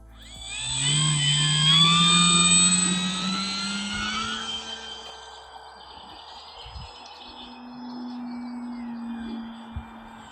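A small electric motor whines loudly as an FMS Super Cub PA-18 RC plane on a 4S battery flies past overhead, the high buzz rising then fading into the distance, with faint outdoor ambience.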